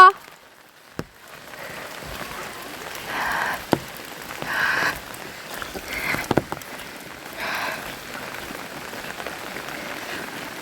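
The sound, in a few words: rain falling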